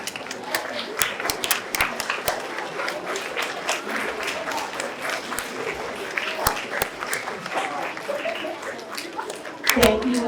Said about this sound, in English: Our fifth graders would like to give you a round of applause.